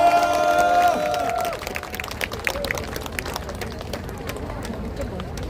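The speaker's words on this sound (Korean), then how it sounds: "네, 우리 큰 박수로 응원의 함성 부탁드리겠습니다." A crowd at an outdoor rally for the rights of people with developmental disabilities and their families breaks into sustained clapping and cheering. A raised voice rings out at first, then dense, close applause continues steadily.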